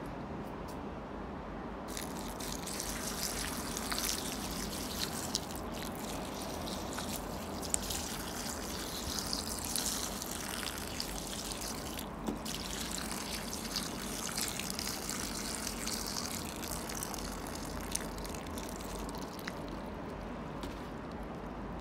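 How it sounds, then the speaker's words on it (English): Water poured onto potted plants during watering, a continuous trickling and splashing flow that runs steadily with small surges and drips and no talk. "I've not watered the plants, so might as well do this ASMR watering,"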